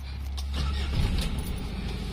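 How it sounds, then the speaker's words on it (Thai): A car engine cranks and starts after its alternator has been replaced, the warning-light fault cleared, a steady low rumble settling into idle close by, with no talking over it. "เดี๋ยวผมจะสตาร์ทให้ดูนะครับ"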